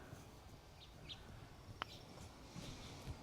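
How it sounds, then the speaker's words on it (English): Faint, scattered bird chirps sound from a distance over a quiet outdoor hush, with a few brief sharp calls standing out. "So just listen to the birds."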